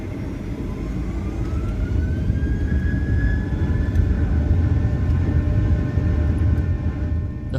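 Steady, loud rumbling drone inside a Boeing 737 cabin during a short flight, a constant broadband engine and airflow roar with a faint whine above it, unbroken and with no voices.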